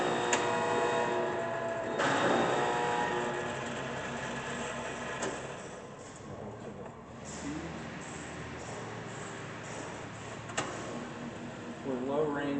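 A Hardinge HLVH precision toolroom lathe runs in threading mode, giving a steady mechanical hum with ticking and clicks and a few sharper knocks, close by and continuous throughout.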